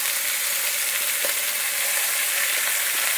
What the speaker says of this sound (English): Give it a sear.